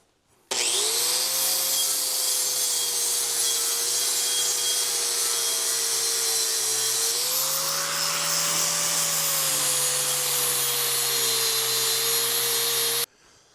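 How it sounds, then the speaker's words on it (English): A flap disc grinds metal clean on a broken hydraulic conduit bender, a loud, steady high-pitched whine with abrasive rasp that holds for about twelve seconds, its tone shifting slightly midway, then cuts off. "So we're just going to take a quick flap disc, get these cleaned up on this side"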